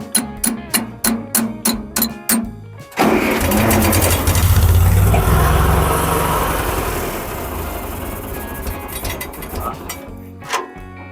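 Old tractor engine with a flooded carburetor, abandoned for 30 years: eight even starter-cranking pulses, then it catches and sputters into a rough, loud run that gradually fades and stumbles, with brief voices.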